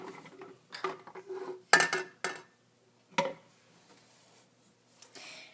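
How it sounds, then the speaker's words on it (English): A teaspoon scoops coconut oil and plops it into a jar while making crayon lipstick, giving several close metallic clinks and scrapes of spoon against glass in irregular bursts, with quiet pauses between. "You take a teaspoon of coconut oil and plop it right in the jar."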